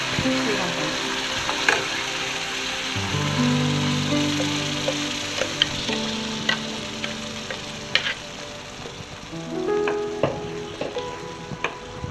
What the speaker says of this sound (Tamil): வெங்காயம் கொஞ்ச நேரம் தாளிச்சிட்டு கொஞ்சம் சூடு ஏறணுங்க.